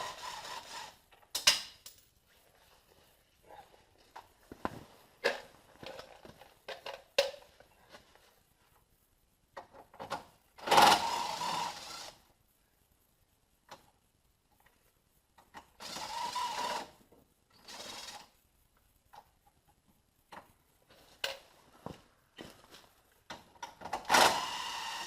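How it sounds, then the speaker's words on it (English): Wrench and ratchet work pulling four 10mm bolts from the grille of a 2015 GMC Sierra pickup: bursts of quick mechanical clicking and rattling with scrapes of metal, separated by quiet gaps, close and fairly loud. "We have 4 10mm bolts that have to come out of here"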